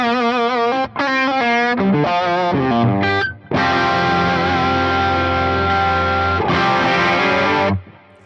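An electric guitar on its bridge humbucker plays through a Free The Tone HB-2 Heat Blaster boost pedal with the high cut engaged, loud, with sustained distorted chords and a few quick riffs and no talking.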